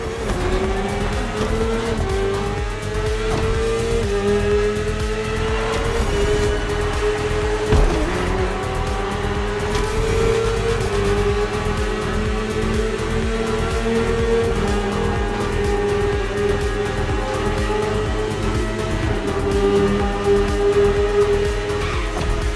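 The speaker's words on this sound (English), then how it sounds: "The one you're riding is the S1000RR. It's what we call a superbike." A BMW S1000RR superbike in the racing video game The Crew Motorfest revs loudly and continuously, its engine pitch climbing and dropping through gear changes with no talk over it.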